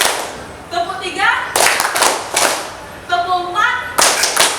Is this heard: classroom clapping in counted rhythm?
yes